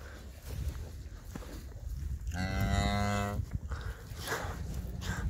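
A cow out in a pasture in February gives one long, loud, low moo in the middle, set against steady outdoor background noise and scattered rustling.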